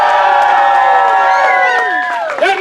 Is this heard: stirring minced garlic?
no